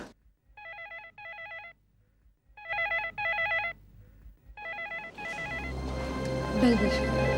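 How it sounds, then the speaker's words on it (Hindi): A telephone rings in repeated electronic double bursts with short pauses between them, fairly close and clear, then fades under rising background noise and voices. "कोई फोन कर रहा है।"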